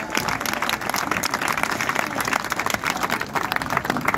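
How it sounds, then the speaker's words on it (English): Audience applauding the 2024 Tyrone varsity football team, steady dense clapping from a crowd filling the whole stretch, loud and continuous. "Round of applause for the 2024 Tyrone varsity football team."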